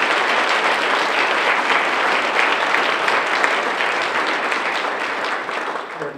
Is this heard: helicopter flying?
no